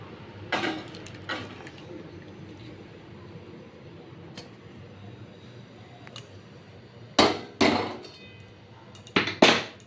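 Spicy oats curry is served into a dish. Faint stirring hums underneath a few sharp clinks and scrapes of a utensil against the dish, which bunch up into a cluster toward the end.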